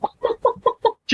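A chicken clucks six times in quick succession, short, close and evenly spaced.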